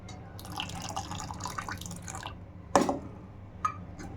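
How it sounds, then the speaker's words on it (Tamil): Lemon juice is poured into milk to curdle it for homemade tofu, a few light drips and small liquid splashes, with one sharper splash near the end, all close and quiet. "லெமன் ஜூஸ் ஊற்றிடலாம்."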